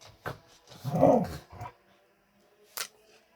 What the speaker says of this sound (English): Can you puppies please shush?